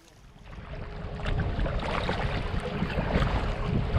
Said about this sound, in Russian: волна поднялась какая-то слишком сильная. Ветер задул.